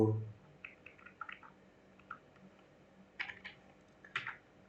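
Soft clicks of typing on a computer keyboard come in a few short clusters of keystrokes against a quiet room hiss.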